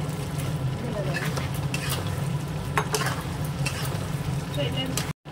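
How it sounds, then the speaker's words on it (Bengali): Food being stirred in a hot pan on a home stove, a steady sizzle of frying under scraping spoon strokes, close and continuous, with a brief dropout near the end. "এবার এটা নেড়ে নেবো।"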